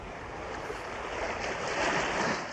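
Rough sea surf churns and crashes among rocky reefs, a dense, continuous wash of breaking water with gusty wind, close and fairly loud, swelling slightly toward the end, with no voices.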